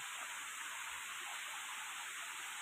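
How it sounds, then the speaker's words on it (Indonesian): Faint, steady rushing of a waterfall heard from afar, a soft continuous hiss with no other sounds. "suara air dari kejauhan mulai terdengar semakin jelas"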